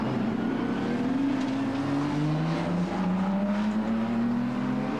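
A Jaguar E-Type race car at a 1995 Jaguar Car Club sports car event drives past with a steady engine drone and a slowly rising pitch, heard from a moderate distance.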